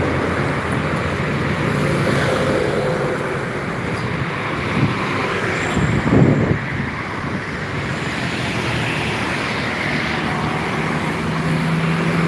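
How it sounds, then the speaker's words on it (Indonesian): An LPG tanker truck passing on an Indonesian road sends up a steady broad roar of tyres and engine that swells briefly midway, heard from the roadside with constant traffic rumble and wind, no talking. "Ada truk tangki LPG."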